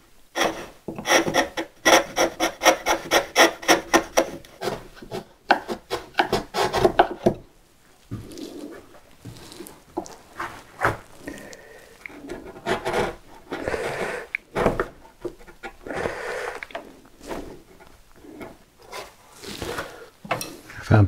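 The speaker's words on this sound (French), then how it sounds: "On va faire un petit chanfrein au ciseau." Close, rhythmic scraping of a wood chisel paring a small chamfer, quick strokes at first, then slower, irregular shaves and scrapes with brief pauses.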